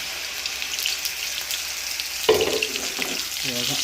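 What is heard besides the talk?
curry leaves sizzling in hot oil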